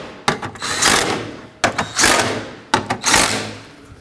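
Screws being snugged into the headlight brackets of a 2007-2009 Saturn Aura, heard as three close bursts of ratcheting and rasping driver noise, each about a second long, with short pauses between them.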